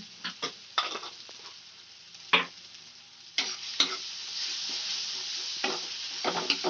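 Chili powder stirred into chickpeas and spices frying in a pan: a soft steady sizzle with spoon scrapes and taps at irregular intervals, close up, no voices.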